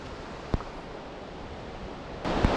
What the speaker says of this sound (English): We can hear the water and maybe a waterfall